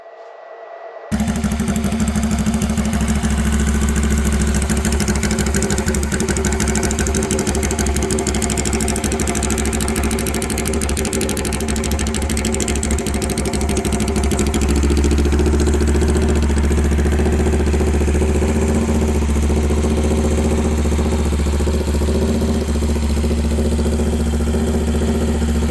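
Early-model Honda CL77 305 scrambler motorcycle engine running steadily at a close idle, a continuous low rumbling drone with light mechanical clatter that grows slightly fuller and deeper partway through.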